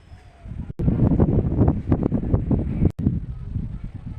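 Strong wind gusts buffet the microphone in heavy, uneven low rumbles, broken by a couple of brief sharp cutoffs.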